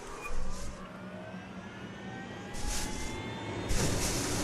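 A helicopter in the video game Ghost Recon Wildlands, a steady engine and rotor roar with rising whine that swells and recedes in waves, no talking.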